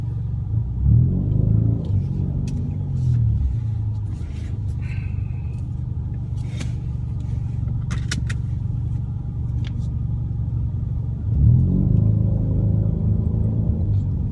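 Low, throaty exhaust rumble from a 2016 Ford Mustang 2.3L EcoBoost with an aftermarket exhaust, on the move, swelling louder as it accelerates near the start and again toward the end.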